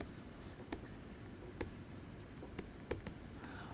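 Chalk or marker writes on a board during a math lecture, producing scattered tapping and scratching strokes over quiet room tone.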